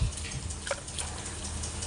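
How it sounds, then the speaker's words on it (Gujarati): Water pours steadily from a small bucket onto plants in a continuous splashing gush, close by, with no pauses. "થોડુંક હવે પાણી પાઈ દઈએ નાની ડોલ ભરીને પાણી લઈ દઈએ"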